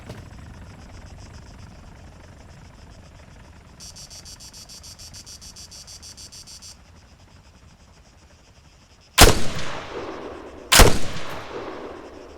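Arma 3 combat with a steady insect-like chirping bed and a thin helicopter-type whine partway through, then two sharp, loud gunshots about a second and a half apart, each trailing into echo.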